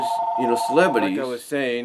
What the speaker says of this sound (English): I do apologize for the phone interrupting